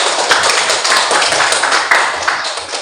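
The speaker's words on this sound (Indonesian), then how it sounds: "Tepuk tangan sekali lagi kita." Students in a classroom give a short burst of applause at the end of a lesson, close and fairly loud, brisk clapping lasting a few seconds.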